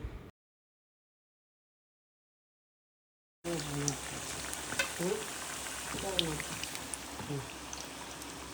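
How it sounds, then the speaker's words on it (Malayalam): Banana fritters (vazhakkappam) fry in hot oil with a steady, fairly close sizzle and crackle, after a brief cut to silence, with faint voices in the background. "എല്ലാവർക്കും കൂടെ വാഴയ്ക്കപ്പം പൊരിച്ച് തന്നു."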